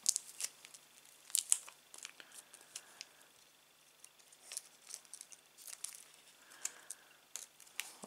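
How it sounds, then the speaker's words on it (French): A small plastic bag of screws for a Star Wars X-Wing model kit being torn open and handled, with sharp crinkling rustles and tearing bursts close by in a quiet room. "je vais tout de suite ouvrir mon sachet de vis"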